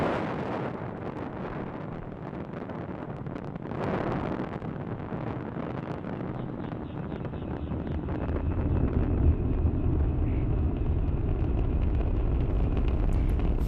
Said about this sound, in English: Falcon 9 has successfully lifted off from Launch Complex 39A, carrying our 53 Starlink satellites into space.